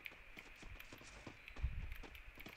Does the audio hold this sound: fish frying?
no